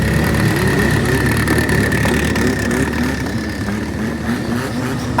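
Modified Thai cars rev loudly and pull away through the streets of Kuala Lumpur at a retro car meet, a dense, continuous engine roar from several nearby vehicles.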